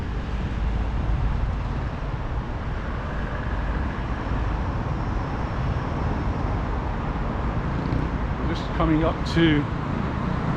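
Steady car traffic roars past while crossing a bridge over a river in Palma de Mallorca, a continuous broadband road rumble, with someone speaking briefly near the end.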